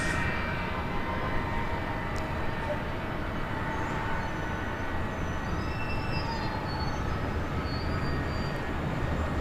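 A Delta jet airliner takes off from runway 24 left at LAX, its engines producing a loud, steady, broadband roar that holds unbroken for the whole stretch.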